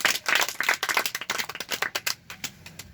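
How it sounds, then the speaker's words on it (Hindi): Hand clapping in a Hindi class-three lesson session, a burst of sharp claps from a small group, fairly close and uneven, thinning out toward the end. "ताली बजाओ भाई"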